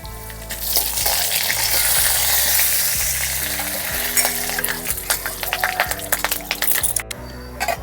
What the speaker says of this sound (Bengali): এখন দিয়ে দিচ্ছি কিছুটা পাঁচফোড়ন, আর দিয়ে দেবো কিছুটা সর্ষে।